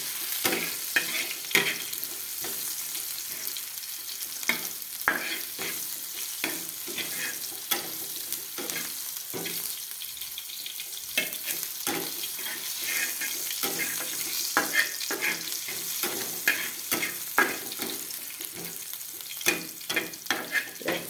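Onions frying to brown in a pan over medium gas for pasta, a continuous loud sizzle with frequent stirring scrapes and clicks running the whole way through.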